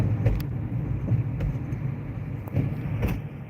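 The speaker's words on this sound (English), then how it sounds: "There's one of our city buses." A city bus rolls past on a tree-lined street, a steady low engine rumble and road noise that swells slightly in the middle and again near the end, with no talk over it.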